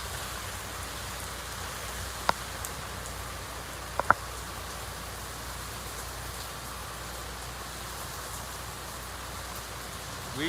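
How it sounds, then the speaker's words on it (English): Steady rain falls during a 1969 Strat-O-Matic baseball game, a soft, continuous hiss of drops with a couple of brief ticks, heard alone without talk. "They're being rained on."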